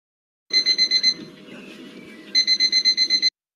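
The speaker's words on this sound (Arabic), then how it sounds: "The alarm is ringing." An alarm clock rings in two bursts of rapid, loud, evenly pulsed beeps, with a short stretch of quieter buzzing between them and no talking.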